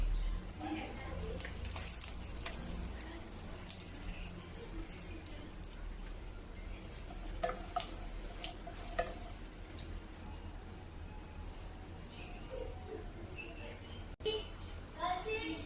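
Cumin seeds sizzling and crackling in hot oil while bread upma is being made, a steady frying hiss with light stirring clicks, a voice talking faintly underneath.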